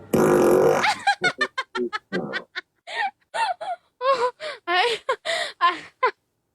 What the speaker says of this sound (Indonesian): Kentut.